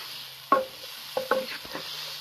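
Potatoes and whole slit green chillies are stirred in a pan, a few distinct scraping clatters of the spoon against metal over a faint background hiss, no talking.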